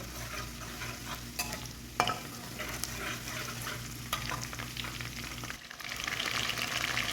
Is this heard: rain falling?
no